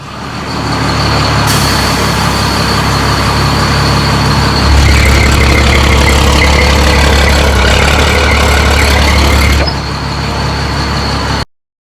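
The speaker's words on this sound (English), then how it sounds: "I'll throw you guys down below here real quick and operate the bed" A truck's bed is operated while the engine runs loud and close, a steady mechanical drone with a heavier low rumble surging through the middle stretch before it eases off and cuts out.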